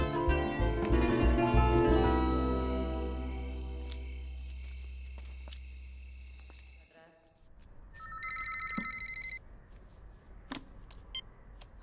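A telephone rings with a sustained bell-like tone that fades out, then a few shorter electronic beeps sound at a moderate level before quieter background noise.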